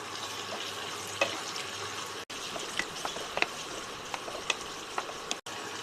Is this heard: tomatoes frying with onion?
yes